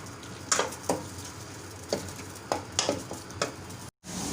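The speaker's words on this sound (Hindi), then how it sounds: "प्याज जो है हम इनको करेंगे अच्छी तरह ब्राउन, यानी कि लाइट ब्राउन" Onions frying in Dalda oil toward light brown, a steady sizzle broken by several sharp clinks and scrapes of a spoon against the pan, with a brief dropout near the end.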